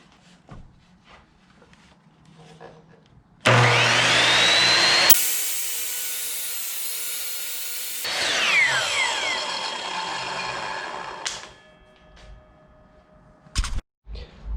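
Reclaimed oak pallet boards run through a power planer, giving a loud steady whine and roar that starts abruptly, shifts pitch between passes, then cuts off, with quieter workshop noise at either end.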